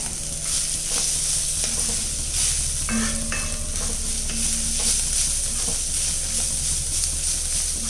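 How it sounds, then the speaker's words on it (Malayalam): Chicken pieces are stirred in a hot frying pan. A continuous sizzle runs underneath, with scattered scrapes and clinks of a spoon against the pan. "നമ്മൾ തയ്യാറാക്കി വെച്ചിരിക്കുന്ന ചിക്കൻ ഇട്ട് കൊടുക്കാം. ഇത് നല്ലതുപോലെ ഒന്ന് ഇളക്കി മിക്സ് ചെയ്ത് കൊടുക്കാം"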